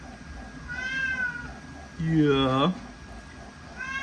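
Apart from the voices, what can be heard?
cat meowing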